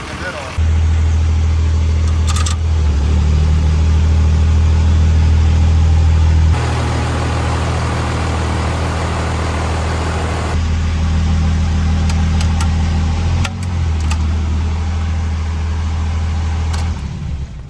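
2nd Gen Cummins diesel idling right after its first startup and break-in, a loud, steady, close-up rumble with slight valve clatter, shifting slightly in tone, and a person talking over it.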